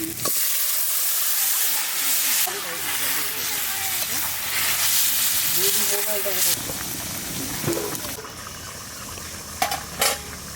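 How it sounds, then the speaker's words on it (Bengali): Curry vegetables hit a pan of onions fried until reddish with a dried chilli and cumin, sending up a steady broad sizzle with stirring and clinks of a pan and utensil, while a voice talks over it. "পেঁয়াজটা লাল লাল করে ভেজে নিয়েছি তরকারিটা দিয়ে দেবো"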